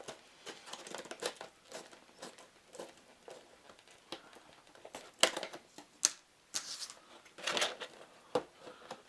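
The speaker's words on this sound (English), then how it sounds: "I'm going to use the scissors." Scissors cut through thick plastic packaging for a Star Wars: Imperial Assault Stormtroopers villain pack, giving quiet, irregular snips and crackles with small bursts of plastic rustle, close by and with no talking.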